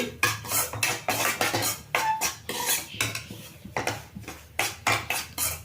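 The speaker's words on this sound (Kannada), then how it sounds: "ಇಲ್ಲಿ ರವೆ ಚೆಂದಾಗಿ ಹುರ್ಕೋಬೇಕು" Semolina (rava) roasting in a pan for a sweet, with a utensil repeatedly scraping and clinking against the metal in an irregular stirring rhythm, close and moderately loud, no talking.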